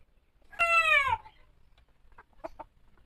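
A Polish chicken rooster lets out one loud, drawn-out crowing call, then a few short soft clucks follow in the quiet afterward.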